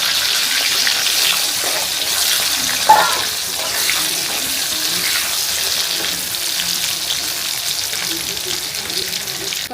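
Mustard oil sizzles and crackles steadily in a pan for several seconds, with one brief clatter partway through.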